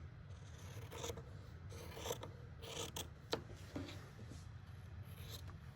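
Scissors cut through muslin fabric close by, giving quiet, repeated rasping snips in an uneven rhythm over a low background hum.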